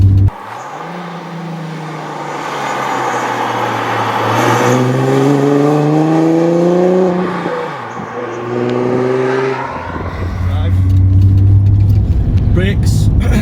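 A supercharged VR6 Mk2 climbs Hartside Pass, its engine loud and close, revving up in rising sweeps through several gear changes, dipping briefly between pulls and then building again.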